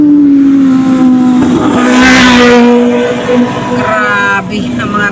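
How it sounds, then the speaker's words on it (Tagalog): Motorcycles on a highway roar loudly and close with a strong, sustained engine drone that rises as they rev and pass, alongside a speaking voice. "Grabe ang mga rider, sakit sa tainga."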